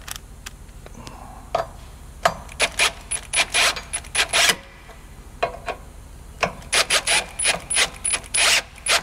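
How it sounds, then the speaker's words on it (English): Socket wrench ratcheting on shock absorber bolts of a Ram 2500 truck during a Fox 2.5-inch shock install, bursts of rapid close clicking separated by short pauses, crisp and fairly loud. "You could even just do this with a normal socket."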